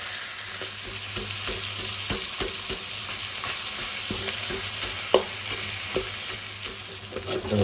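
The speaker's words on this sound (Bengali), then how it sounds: "ভাজা মোটামুটি হয়ে গেছে" Food fries in hot oil in a kadai wok, a constant loud sizzle broken by repeated scraping and clinking stirring strokes, with no talking.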